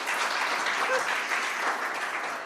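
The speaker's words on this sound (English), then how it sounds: "I think that which requires another round of applause" Audience applause at the opening session of a conference on inclusive excellence in technical and vocational education, a dense, steady wash of clapping from many hands that holds at even strength throughout and tapers slightly at the end.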